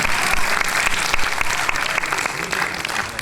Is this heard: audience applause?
yes